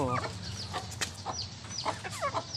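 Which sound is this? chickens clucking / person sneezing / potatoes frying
chickens clucking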